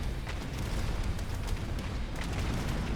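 Constant rumble of explosions in a real-time strategy video game battle, with dense booms and bursts overlapping steadily and loudly throughout, no talking.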